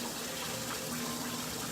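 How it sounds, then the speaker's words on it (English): Cold water runs steadily from a kitchen tap while eggs are being prepared, a continuous close rushing with an even level and no voices. "I'm going to run the cold water in there."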